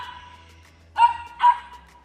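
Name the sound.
dog barking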